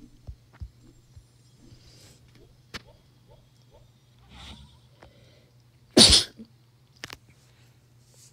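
One sharp, loud sneeze bursts out about two-thirds of the way through, standing alone over a quiet background of low hum and a few faint clicks.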